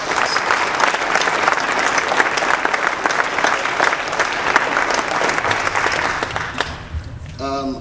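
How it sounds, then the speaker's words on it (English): Crowd at a wrestling team banquet bursts into loud, sustained applause, a dense wash of clapping that holds steady for several seconds before tapering off near the end. "give him a huge round of applause"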